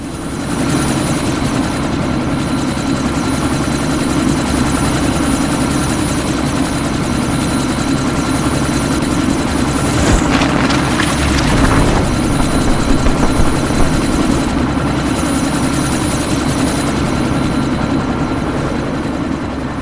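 A helicopter in the video game Deus Ex: Mankind Divided, preparing to take off, gives a loud, steady rotor and engine roar that stays constant throughout, with a brief swell near the middle.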